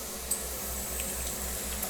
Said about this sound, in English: put the water for the pasta.